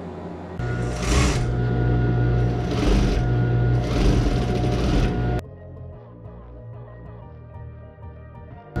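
Industrial sewing machine stitching the facing seams of a protective suit, a loud steady mechanical whir running in bursts for about five seconds, then stopping to a quieter room hum.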